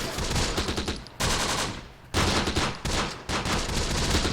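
Sustained rifle and small-arms gunfire from a World War II battle in the video game Close Combat: The Bloody First, loud dense bursts of rapid shots broken by brief pauses, with no talking.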